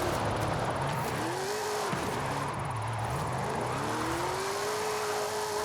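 A car engine in Forza Horizon 5 revs hard during a race, climbing in pitch, dropping sharply at a gear change and then winding back up, loud and close the whole way.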